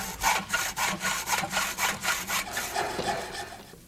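A handsaw cuts a circle out of a piece of wood for a windmill hub, with steady rhythmic back-and-forth rasping strokes, close and fairly loud, and no talk.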